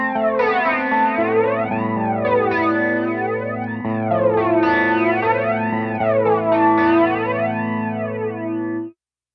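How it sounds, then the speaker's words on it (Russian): Electric guitar through a TC Electronic Dreamscape pedal set to a massive, wide flanger, sustained chords sweeping up and down in slow repeating waves, loud and alone, ending abruptly. "такой довольно объемный массивный фленджер"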